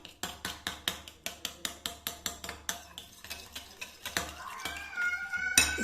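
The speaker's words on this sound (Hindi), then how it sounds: "4 टेबलस्पून लेनी है हमने दही एक बाउल में। इसको अच्छा सा करना है हमने मिक्स, इसमें फेंट लेना है इसको।" Four tablespoons of yogurt whisked in a bowl with a metal utensil: a quick run of sharp, regular clinks against the bowl, about three per second, then blurring into faster scraping and rattling, close and unaccompanied by talk.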